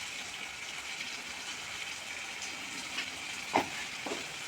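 Bitter gourd frying over high heat with ginger and turmeric, a steady soft sizzle running throughout, with a brief clink or stir near the end and no talking.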